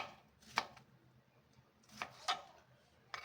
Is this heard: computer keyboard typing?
no